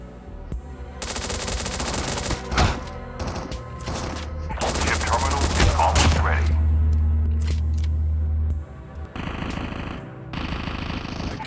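Rapid bursts of MSMC submachine gun fire in the mobile shooter Call of Duty Mobile, loud and close, with several rattling volleys, a sustained heavy stretch in the middle and a brief pause before more shots.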